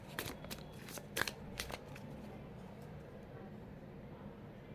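Tarot cards are shuffled and drawn in a quiet room, giving a quick burst of crisp riffling snaps in the first two seconds, then faint room tone with no further handling.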